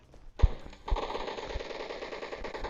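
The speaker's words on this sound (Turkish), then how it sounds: "O bir çatışma var." Gunfire rattles during a firefight in a video game, with sharp machine-gun bursts and loud individual shots over a steady background hum, fairly close.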